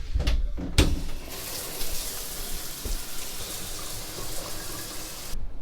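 Water rushing steadily through an RV's plumbing as all taps are opened to flush out bleach water, a continuous hiss with a few knocks and clunks at the start, then cutting off near the end.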